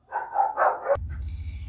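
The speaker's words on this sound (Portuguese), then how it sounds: "Que não tem como eu gravar sem ter barulho de cachorro." A dog barks indoors in a quick burst of a few close yapping barks, followed by a low steady background hum.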